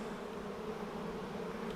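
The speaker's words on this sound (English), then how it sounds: "There's a lot of bees on it." A dense, steady buzz of many honeybees swarms around a busy, well-populated hive during its first spring inspection, continuous and close throughout with no voices.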